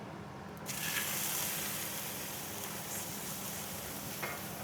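A ribeye steak sears in an oiled pan, giving a steady, dense sizzle that swells as the meat hits the hot fat and then holds, close and loud.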